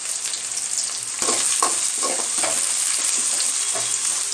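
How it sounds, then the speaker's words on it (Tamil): Chopped onions sizzle and fry in a pan for egg rice, with a steady bright crackle and intermittent scraping stirs, close and fairly loud throughout. "வெங்காயம் கொஞ்சம் நல்லா வதங்கட்டும்"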